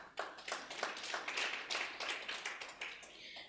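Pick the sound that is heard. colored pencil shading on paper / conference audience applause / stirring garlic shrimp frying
conference audience applause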